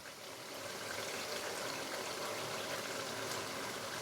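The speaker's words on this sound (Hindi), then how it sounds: "अभी मैं इसके अंदर डाल दूंगा पानी तकरीबन हाफ गिलास के करीब" Water is poured into a pan of matar gosht curry, making a steady, continuous splashing pour that runs for several seconds with no talking.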